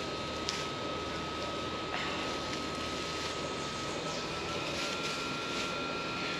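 A power plant across the street gives off a steady, unbroken droning hum with a thin constant tone, faint but filling the whole stretch without change.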